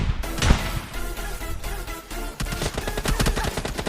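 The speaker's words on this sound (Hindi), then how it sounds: "इसका बंदा मेरे पे थोड़ा सा हल्का फायर करता है" An enemy player fires in PUBG Mobile Lite. Rapid automatic gunfire comes in dense bursts, with a short lull in the middle before another fast volley, loud and without speech.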